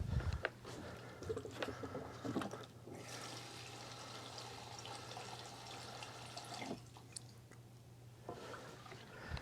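Gasoline poured into a Coleman Powermate 2500 generator that had sat unused a long time, a faint steady trickle of liquid running for several seconds with brief pauses, quiet and close.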